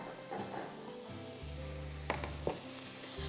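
Ginger and garlic sautéing in a pan for chicken liver masala, a steady hissing sizzle with a couple of brief scraping clatters from stirring, close and moderately loud.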